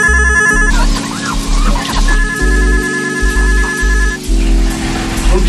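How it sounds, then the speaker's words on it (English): A telephone rings in bursts over a loud, slowed R&B track with heavy bass, the ring fading in and out of the dense music. "get the phone"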